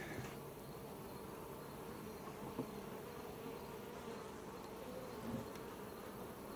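Steady, dense buzzing of many honeybees around a hive fitted with BetterComb frames, a constant close drone with no talking.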